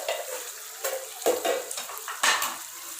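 Chicken karahi sizzles in a pan while a spoon scrapes and stirs it in a few quick strokes, the frying hiss rising with each stir.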